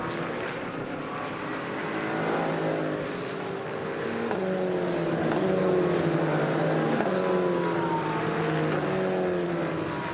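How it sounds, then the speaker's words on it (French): Several GT4 race car engines roar along the aerodrome straight at Nogaro during a French GT championship race, a loud continuous drone with shifting, overlapping engine tones as cars pass, no voices heard. "La ligne droite de l'aérodrome, on profite du bruit des moteurs de ces GT4"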